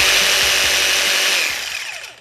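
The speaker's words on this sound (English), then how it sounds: "My best tip for using a jigsaw is to always hold the power down so the blade is going as fast as it can go." A jigsaw cuts a shape out of a piece of wood at full blade speed, a loud, steady buzzing whine that holds for about a second and a half, then fades and slows as the cut finishes.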